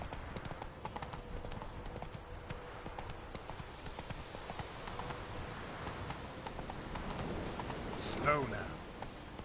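Horse hooves pounding steadily at a gallop in The Witcher 3 video game, a continuous clip-clop against busy in-game ambience, with a brief swooping sound near the end.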